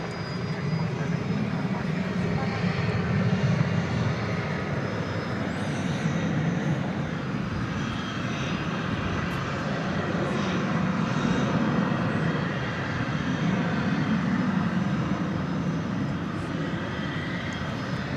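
A Turkish Airlines Boeing 787-9 Dreamliner bound for Istanbul rumbles continuously at Dallas Fort Worth Airport, a loud broad jet roar that swells slightly and holds steady throughout.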